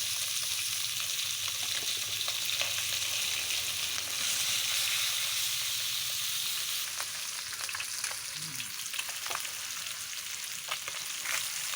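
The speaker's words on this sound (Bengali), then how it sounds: "এখন আমি লবণ হলুদ মাখিয়ে মাছগুলো সুন্দর করে ভাজা করে নেব" Pieces of rohu fish coated in salt and turmeric fry in hot oil with a loud, steady sizzle that runs throughout, with occasional scraping stirs and no talking.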